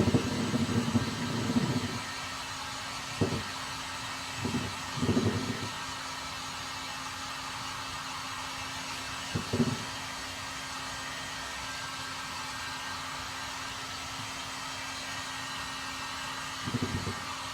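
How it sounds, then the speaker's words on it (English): A blow dryer drying a painted flower pot hums as a steady, close airy whir that holds at an even level, with a few brief thumps and rustles of handling over it. "You can use a blow dryer, or you can just take some patience and let it dry"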